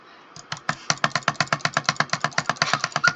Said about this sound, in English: I'm clicking as hard as I can